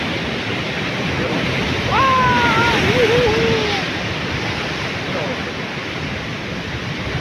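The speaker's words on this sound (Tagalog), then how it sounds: "Nakita nyo guys yung malaking alon yun" Big waves of the South China Sea by a lighthouse shore, a steady broad surf roar with wind across the whole stretch, swelling slightly in the middle, while a faint voice passes briefly.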